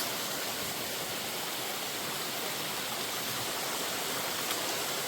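A waterfall at the cascades along the Appalachian Trail gives a steady, broad rushing roar of falling water. The sound is constant and moderately distant, with no voices.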